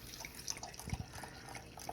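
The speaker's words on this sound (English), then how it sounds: "At this point, pour some wine" Wine pours into a glass in a kitchen with a soft, faint trickle and a few small drips, one slightly stronger splash near the middle, heard quietly at close range.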